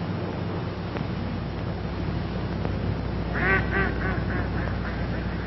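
Ducks quack in a short run of several calls near the middle of the clip, heard over a steady outdoor rush of wind or water.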